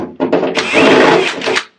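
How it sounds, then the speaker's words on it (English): A power tool whirs in short bursts and then a longer sustained spin while deburring a freshly drilled hole in a large external storage box on an expedition camper, loud and close, stopping abruptly. "I'm going to do a quick deburr."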